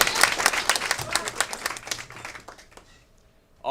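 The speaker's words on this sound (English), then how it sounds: "Clap for him. Y'all don't even know what's going on, but clap for him." A live concert audience applauds with brisk, dense clapping that gradually thins out and fades to near silence before a voice cuts in at the end.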